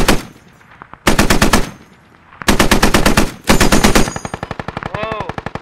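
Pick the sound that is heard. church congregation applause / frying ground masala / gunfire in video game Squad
gunfire in video game Squad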